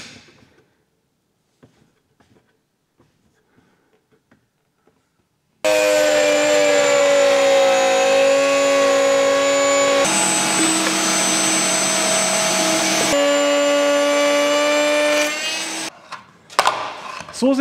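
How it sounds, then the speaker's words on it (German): Handheld router milling 9 mm deep into wooden parts for a homemade bandsaw's tensioning assembly, a loud steady whine with strong harmonic tones starting after a few quiet seconds, running about ten seconds before spinning down. "Das hier habe ich alles weggefräst."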